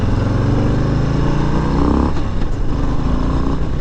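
A 2022 Harley-Davidson Low Rider S with the 117 engine rumbles loudly as the rider downshifts toward first gear, the deep V-twin note dropping and surging with wind noise.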